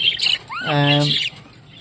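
Spangle rainbow budgerigars squawk close by in one loud, harsh call with rich harmonics. Shorter chirps and chatter come before it, and quieter sounds follow.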